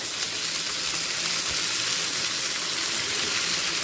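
Masala and boiled kabuli chickpeas frying in oil over a high gas flame give a steady, loud, close sizzle that holds without a break the whole time.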